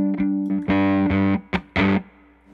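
A violin plays through a Bunnel Heavy Metal distortion pedal, giving a buzzy, saturated tone: a few short plucked or bowed notes, then longer sustained chords, loud and close with brief gaps.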